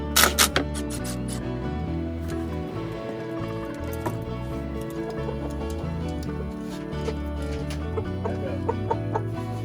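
Chickens cluck steadily while eggs are collected in the coop, a dense flock chatter close by with occasional louder squawks and no talk.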